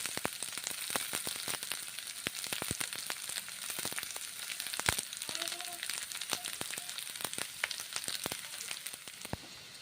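Red lentils and tender drumsticks (sajane data) frying in a pan give a steady, close sizzle with scattered sharp crackles and pops throughout, no talking.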